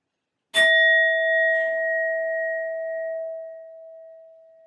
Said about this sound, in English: I will be using my sound bowl to clear and set the energy